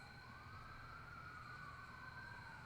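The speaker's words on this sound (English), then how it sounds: "That's the sound of ambulance." An ambulance siren sounds as one sustained, wavering electronic wail, steady in level and slightly bending in pitch as it passes, with a low traffic rumble underneath.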